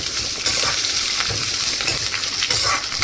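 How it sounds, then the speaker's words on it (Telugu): Onions and curry leaves fry with ivy gourd in a hot pan, a continuous loud sizzle with occasional scraping and clinking stirring strokes, heard without any voices. "ఇప్పుడు ఒకసారి మంచిగా కలిపేసుకోవాలి"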